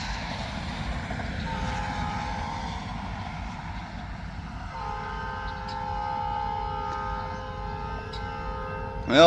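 Two vintage locomotives hauling a train of nearly 80 cars, a steady low rumble with horn tones sounding from about halfway through, held long notes that stay moderately loud.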